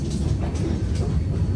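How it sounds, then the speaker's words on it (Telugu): Steady low rumble from inside a packed Vande Bharat Tejas Express train running out of New Delhi toward Katra, a continuous interior drone with no talk over it. "మన ట్రైన్ అయితే న్యూఢిల్లీలో బయలుదేరింది కదా"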